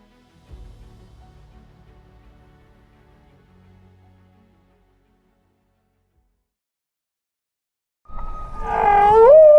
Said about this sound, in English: humpback whale lives in a world of sound. Its songs travel hundreds of kilometers